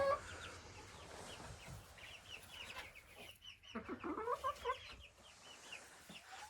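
Several chickens cluck and murmur softly at a distance, with scattered short calls over a quiet outdoor background.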